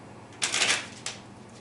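A deck of playing cards is shuffled during a magic trick: a short, crisp riffle of fluttering card edges, then a second quicker riffle, fairly close and heard without speech.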